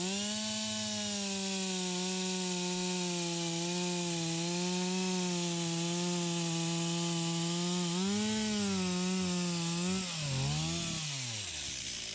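Loud, close chainsaw running steadily with a buzzing drone, then revving up and down as it cuts into storm-felled trees.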